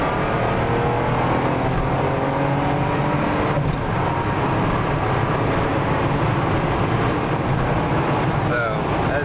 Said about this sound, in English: I'll slow down a little bit and downshift it.